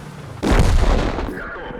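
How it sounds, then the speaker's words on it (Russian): A single heavy tank cannon shot in World of Tanks, a sudden loud deep boom that rolls into a rumbling decay lasting about a second. "выстрел был настолько суровым, что от пожара пострадала вся ПТшка целиком"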